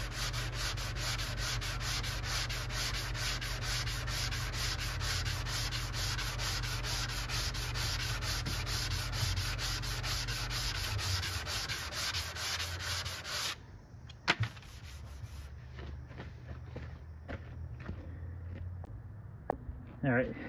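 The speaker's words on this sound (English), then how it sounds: "I'm going to keep sanding with that off camera" Rapid back-and-forth rasping of 180-grit sandpaper on a block sanding bodywork of a '64 Chevy Impala convertible, close and continuous, then it stops and a few knocks and quieter sounds follow.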